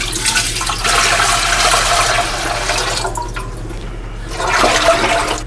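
Water poured from a container into a canner on a stovetop, a loud continuous splashing gush with a brief pause midway before pouring resumes, close and alone.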